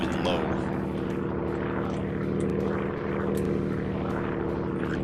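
Ju87 Stuka dive bomber in the Arma 3 video game, its propeller engine droning steadily and loud as it flies low, a continuous buzzing roar with someone talking over it.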